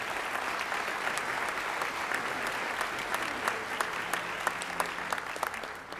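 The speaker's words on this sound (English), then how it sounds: "Please give one more round of applause to our 3 ESL Bilingual Teachers of the Year." Applause rolls through an awards ceremony hall as an audience claps steadily for several seconds at moderate volume, dense and even with scattered sharper claps, and no voices are heard over it.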